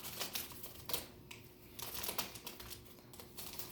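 A cat plays with makeup items, producing bursts of crinkly rustling and light tapping clicks that come and go irregularly at close range, with no talking.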